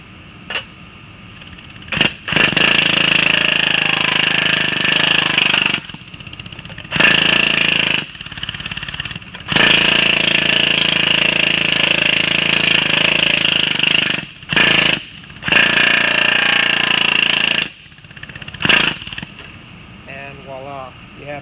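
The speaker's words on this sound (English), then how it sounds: "we need to stretch this back out right in here. So you come back over here, put the linear stretching dies in" Linear stretching dies working a sheet metal flange back out, a loud continuous mechanical hammering in long bursts separated by short pauses.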